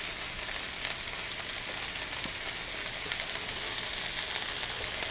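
Pasta sauce with garlic stirred in a pan on a stove at medium-low heat, a steady soft sizzle and bubbling hiss running evenly throughout with no voice.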